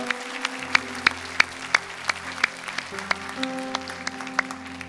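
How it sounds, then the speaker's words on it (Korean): A Korean church congregation at a Sunday worship service claps together to give glory to God, a sustained round of applause with distinct sharper claps popping out over a steady background tone. "우리 큰 박수로 하나님께 영광 돌리겠습니다."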